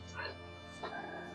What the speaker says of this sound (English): that is the dog loudly barking in her sleep